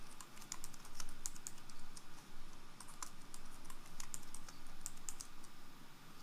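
Quick, close typing on a computer keyboard while a user account is set up during an Alpine Linux 3.16 install, with light irregular key clicks throughout over a faint background hum.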